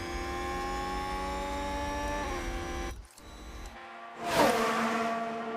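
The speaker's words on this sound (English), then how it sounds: "Yeah, the engine noise is really annoying after the red flag." Racing car engines in the video game F1 Manager 2022 drone with a steady, layered harmonic whine that cuts out briefly midway, then returns as a louder swelling whoosh near the end.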